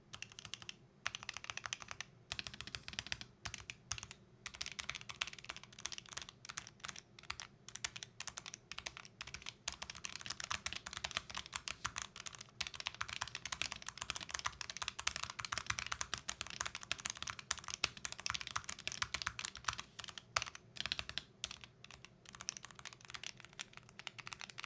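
Steady typing on a NuFi keyboard with smooth linear switches, aluminum build and dampening foam, a fast, continuous patter of close, soft keystrokes with occasional louder clacks.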